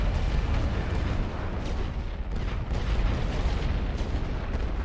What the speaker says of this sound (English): Let's just wreck these guys with artillery.